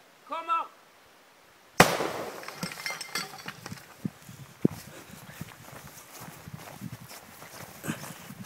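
A Rock Cracker charge fired by a cord-released striker to split stone: after a brief voice and silence, one sharp loud crack, then scattered knocks and rattles of falling debris.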